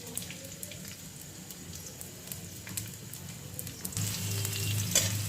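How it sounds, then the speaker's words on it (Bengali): Chopped onions fry in hot oil for a Bengali masala chicken, giving a steady, moderate sizzle with a few scattered pops and crackles. The sizzle swells a little louder toward the end, with no voices. "এরপরে পেঁয়াজটা আমি হালকা করে ভেজে নেব।"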